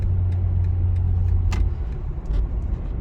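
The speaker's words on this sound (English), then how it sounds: "in comfort mode, this car is so hushed and so subtle." A 2023 BMW M340i xDrive cruising quietly in comfort mode, a low, hushed engine and road rumble heard steadily from inside the cabin with no pops or bangs.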